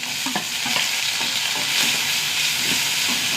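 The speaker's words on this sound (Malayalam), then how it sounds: "ഉള്ളി നന്നായി മൂത്ത് വരട്ടെ." Onion and garlic fry in oil in a pan, making a dense, steady sizzle with faint stirring clicks throughout, close and moderate in level.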